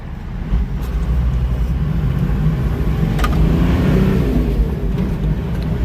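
A 30-year-old 60 series Land Cruiser with a swapped-in manual transmission, heard from inside while pulling in third gear: a loud, steady low engine and road roar that swells slightly as it accelerates, with no talk.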